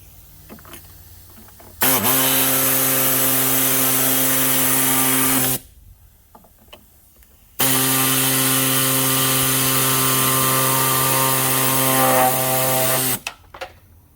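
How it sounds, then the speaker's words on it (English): An air-powered hacksaw cuts through a car's aluminum AC line: two long, loud, steady buzzing runs of reciprocating sawing, close up, with a short pause between them and faint clatter around them. "So right in here, I'm just going to use my air hacksaw."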